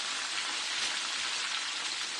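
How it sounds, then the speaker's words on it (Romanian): Romanian-style meat patties sizzle steadily in a frying pan, a loud, dense, even crackling hiss with no talking over it. "Ia ascultați sfârâitul părjoalei sau a chiftelei."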